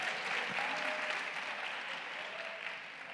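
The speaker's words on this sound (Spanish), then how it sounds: "¿Cuánto le dan un fuerte aplauso a nuestro Señor Jesucristo?" A church congregation applauding at a Spanish-language Saturday worship service, sustained steady clapping from a crowd at moderate distance, fading slightly toward the end.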